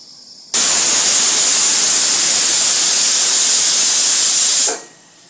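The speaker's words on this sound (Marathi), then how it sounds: "झाली बघा एक शिट्टी, आता गॅस बंद करते।" A pressure cooker cooking bottle gourd sabzi lets out a single loud, steady steam whistle that bursts in abruptly, holds a continuous hiss for about four seconds, then cuts off, close up with no talk.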